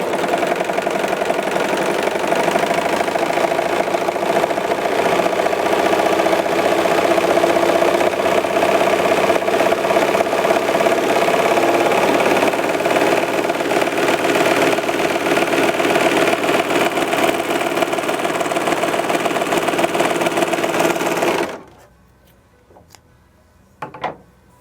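A Bernette B64 Airlock overlocker sews a rolled hem at its shortest stitch length, a loud, steady high-speed mechanical drone that runs continuously, then stops abruptly, leaving a few faint clicks.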